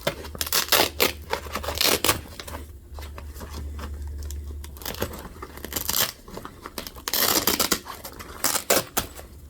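Velcro strips ripped off the side panel of an Ask Echo SLC-130 golf cart bag, a series of loud rasping tears in several bursts with handling noise between them.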